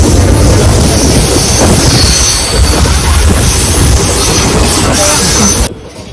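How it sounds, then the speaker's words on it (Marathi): A MEMU train pulls out of Vasai Road station, a loud, continuous rumble of wheels and carriages with squealing rails heard from on board, cutting off abruptly near the end. "इथे 2 मिनटं थांबून ट्रेन लगेचच निघाली आहे वसई रोड स्टेशनवरून."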